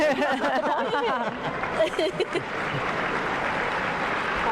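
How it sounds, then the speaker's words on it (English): Stadium crowd applauding at a women's League Cup final between Manchester United and Chelsea, a broad wash of clapping and crowd noise under close talking voices. "some rapturous applause here"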